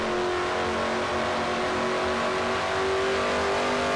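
Race car engine roaring steadily on a track in a NASCAR-style racing video game, in-car view from car 42, a loud continuous high-revving drone with sustained tonal harmonics and no pauses.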